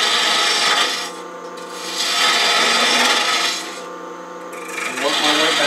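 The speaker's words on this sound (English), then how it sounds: "I could use a bowl gouge, but I like spindle gouge for this." Spindle gouge cutting wood on a lathe while shaping a goblet: broad, scraping shavings noise rising and falling in three long, close passes, loud and alone.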